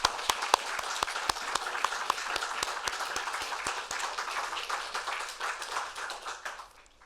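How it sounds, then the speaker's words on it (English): An audience gives a sustained round of applause at an evening talk in the Roosevelt House, with dense clapping filling the room before fading out near the end. "I hope everyone will join me in a round of applause for Kim and John"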